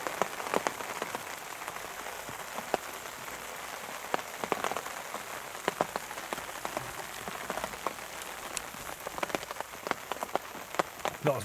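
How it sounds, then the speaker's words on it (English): Heavy rain pours down steadily on a Thursday afternoon in France, a dense continuous hiss of drops with sharp patters and splashes close by, no voices. "it's pouring down with rain again."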